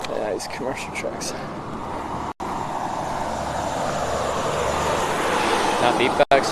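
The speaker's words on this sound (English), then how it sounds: "These commercial trucks." Commercial trucks passing on a wide road, a continuous loud roadside roar of traffic swelling as they go by, with voices talking over it.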